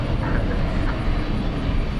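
Boeing 737-900 airliner taxiing at night at DFW Airport: a steady, loud, broadband jet engine rumble and roar that holds constant throughout, with no pauses.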